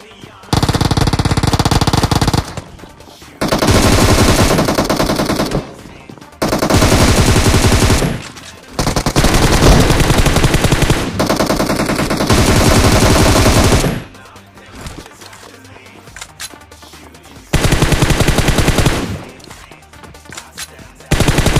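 Video game gunfire from PUBG Mobile arrives in loud sustained automatic bursts of several seconds each, separated by short quiet gaps.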